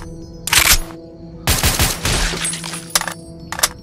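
Bursts of rapid automatic SCAR gunfire in Fallout New Vegas, loud and close, fired in three separate volleys with short quiet gaps and a couple of brief trailing shots.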